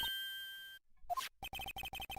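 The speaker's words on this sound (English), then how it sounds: "The phone that just rang wasn't mine." Phone ringing in the Ace Attorney video game: a sustained tone breaks off, then a brief chime precedes a rapid series of bright, repeated electronic ring pulses, clean and close with no talking.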